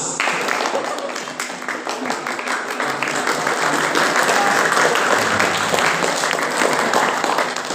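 A large group at a pesantren kilat (Islamic short-course) gathering claps together in a dense, sustained burst that stays loud and even throughout, filling the room.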